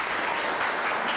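Audience applause at a 1993 political debate between Castellani and Novelli, a brief, dense, even burst of many hands clapping, loud and continuous with no talking.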